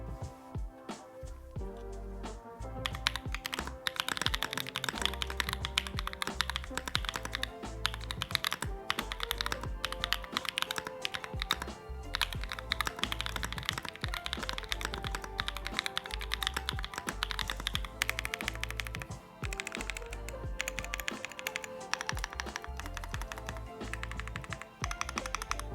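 Steady, fast typing on a Mode Tempo mechanical keyboard, crisp close-up clacks in a dense continuous run with no talking.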